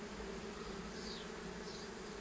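Bees buzzing inside an opened hive during a removal, a dense, continuous droning hum of many insects close by, steady and uninterrupted, with no voices.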